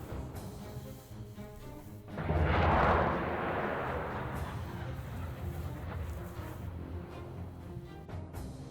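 An AGM-45 anti-radiation missile strikes in the combat game Command: Modern Air/Naval Operations, set in a 1967 Downtown scenario, giving a sudden loud explosive burst that swells and then fades into a long rumbling decay.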